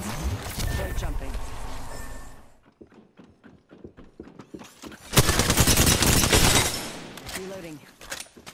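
Gunfire in the video game Apex Legends, with a long loud burst, then a run of spaced single shots, then another sustained loud barrage, mixed with other game sounds.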